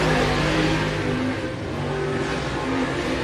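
A dirt track race car engine at Pike County Speedway roars and revs in a dense, loud, steady drone with droning harmonic tones, heard close over a continuous wash of track noise.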